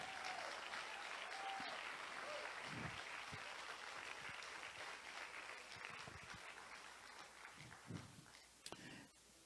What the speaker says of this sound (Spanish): Denle un aplauso al Señor de verdad.